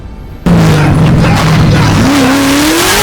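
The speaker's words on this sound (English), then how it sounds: "So we got the drift car back." A drift car roars loudly after a sudden start, its engine note holding steady and then climbing as the tires squeal and skid, with the harsh sound continuing close and unbroken to the end.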